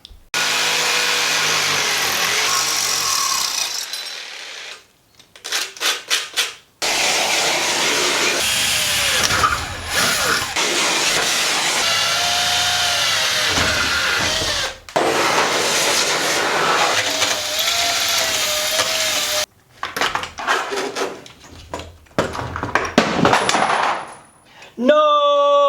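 A power drill whines loudly in long sustained bursts, separated by brief pauses and a few rapid rattling stutters, close and harsh, ending as the drill bit snaps.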